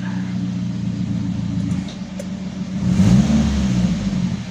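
Car engine revving through a modified two-mode exhaust with valvetronic valve open in racing mode, a steady rumble swelling into a louder rev near the end, close by.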